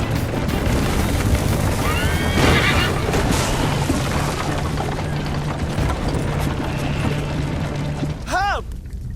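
A horse whinnies loudly near the end over a dense, rumbling soundscape in Assassin's Creed Liberation, with a fainter neigh earlier; hoofbeats are hard to pick out.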